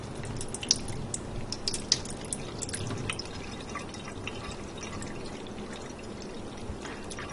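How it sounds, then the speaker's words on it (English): Water carrying tomato seeds poured through a cheap dollar-store strainer, a steady close trickling and dribbling stream with scattered drips, running alone throughout. "And I start pouring this through this strainer."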